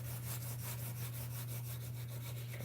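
Wood hand sanded by hand around an inside corner, a steady rhythmic rasping of even back-and-forth strokes under a constant low hum.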